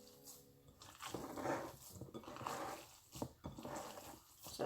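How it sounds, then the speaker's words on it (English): Hands squishing and kneading raw pork burger mix with breadcrumbs, soft wet squelches and sticky smacks in irregular bursts, faint and very close. "we'll get some ASMR pork squishing"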